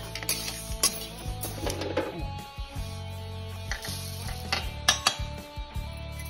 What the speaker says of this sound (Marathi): आता ही डाळ मी या तांदळात काढून घेते.